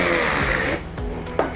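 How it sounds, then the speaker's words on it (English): A stick blender churns a thick Frosty mix, with a loud, steady whir that drops to a struggling, sputtering grind partway through. "I have a handy dandy stick blender, and we're gonna try to see if we can smush it down."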